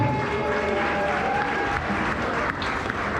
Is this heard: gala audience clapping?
yes